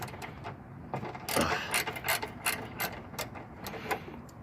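Ratchet loosening headlight bolts and nuts on a 1995 Geo Prizm, a close series of quick metallic clicks in uneven bursts, fairly loud with no talking.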